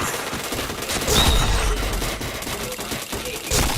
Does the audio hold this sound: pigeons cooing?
no